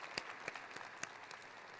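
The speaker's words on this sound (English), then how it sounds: "So let's get one more huge round of applause for all of our inductees here today." Applause from an audience at an induction ceremony, a faint, distant, steady patter of many hands clapping with a few sharper individual claps standing out.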